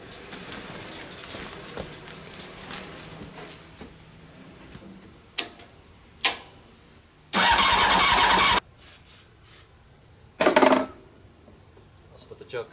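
A Honda CBR 600 motorcycle with a freshly cleaned carburetor is being started: two loud, short cranking bursts stand out over a quiet background of faint ticks and clicks.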